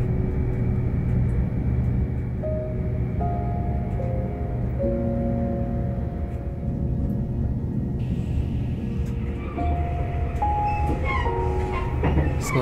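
An oncoming limited express train passes on a Shikoku line in Japan, heard from aboard a stopped train: a steady low rumble with rising and falling tonal whines, growing louder toward the end.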